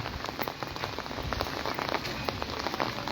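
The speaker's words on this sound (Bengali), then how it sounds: "বৃষ্টির আওয়াজ শোনা যায়" Steady rain patters densely on a surface in Comilla, a continuous close hiss of drops with no voices.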